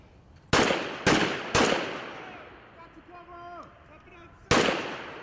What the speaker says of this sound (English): Live fire exercises